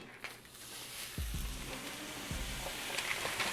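A burger patty drops into a hot cast iron skillet and sizzles loudly, with a second sharp sizzle as another patty lands, the frying hiss continuing steadily up close.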